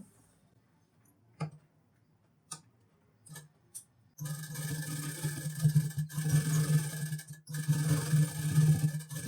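A sewing machine runs steadily, stitching patchwork onto a blouse; after a few soft clicks and handling taps, the motor hum and rapid needle rhythm start abruptly and continue loud and close, pausing briefly twice.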